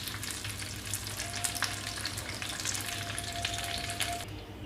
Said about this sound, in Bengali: মাছ ভাজা শেষ। এখন আমি মাছগুলো তেল থেকে তুলে নিব।